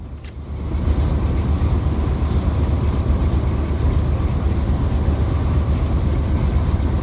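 Freight locomotives on the Mojave Subdivision drone loudly and steadily as the rear DPUs are throttled down to notch 1, a heavy continuous engine rumble heard close from the cab.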